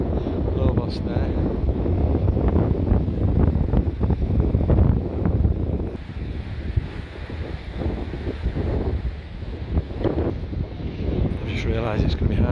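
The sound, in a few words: strong wind on a beach walkway in Corralejo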